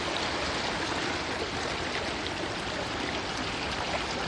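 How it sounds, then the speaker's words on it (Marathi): Cold spring stream flowing beside a hot spring pool in the Konkan countryside, a close, steady rush of water that holds constant with no voices. "इथून असा गार पाण्याचा झरा वाहतो"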